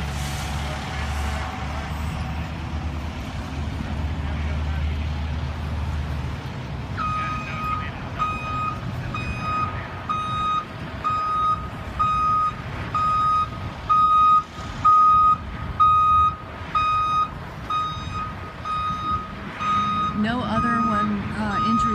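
Delivery truck backing up at a motorcycle crash scene in Foley, its reversing alarm sounding a steady run of evenly spaced beeps over engine rumble and traffic, with people talking at times.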